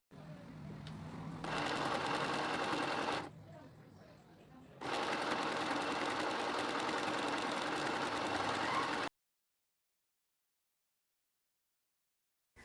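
A sewing machine stitches fabric for a child's adjustable turban headband in two long, steady runs of fast mechanical whirring, with a short pause between them and quiet handling noise before the runs.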